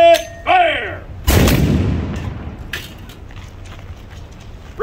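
A volley of matchlock muskets fired together by 17th century Virginia Company infantry musketeers at a drill demonstration: one loud outdoor crack with a long rolling decay, preceded by a shouted command and followed by fainter clatter.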